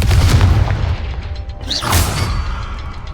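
A Confringo spell explodes in the Hogwarts Legacy video game with a loud, deep boom that rolls off into a fading rumble, followed by a second, softer burst.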